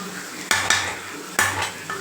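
Brinjal and anchovy thokku with spring onion is stirred in a pan, giving two short bursts of metal spoon scraping and clinking against the pan over a faint background sizzle, with no talk.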